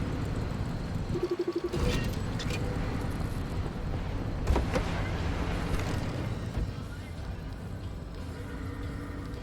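A faulty car engine in the video game Pacific Drive rumbles roughly with a sputtering, stuttering burst early on and a sharp bang midway, then keeps running as a steady low drone.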